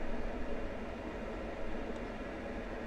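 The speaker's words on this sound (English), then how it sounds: "Now the noise you're hearing is the air conditioner," Constant broadband whooshing hum of an air conditioner running steadily, close by, with no pauses or talking.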